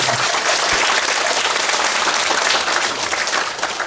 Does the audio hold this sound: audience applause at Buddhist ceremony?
yes